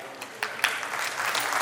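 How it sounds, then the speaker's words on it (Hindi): Audience at a ceremony breaking into applause, a few scattered claps quickly swelling into dense, continuous clapping from a crowd in a hall. "जोरदार तालियां"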